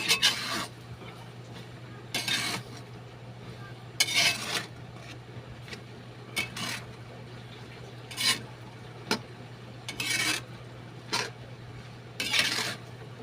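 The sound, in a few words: stirring beef offal bopis in a pot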